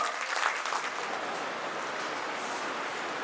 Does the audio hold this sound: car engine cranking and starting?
no